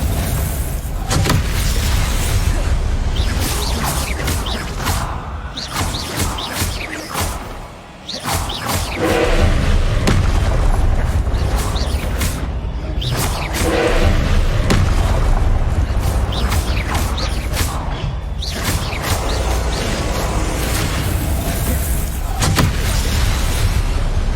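Hogwarts Legacy combat fills the clip with dense, loud, continuous spell explosions, whooshes and booms, one after another with barely a pause, heavy low rumble throughout and a short dip near the middle.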